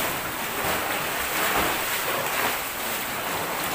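Sea waves wash around a submerged structure in deep water, a steady rushing surf with wind noise on the microphone, continuous and fairly close, with no talking over it.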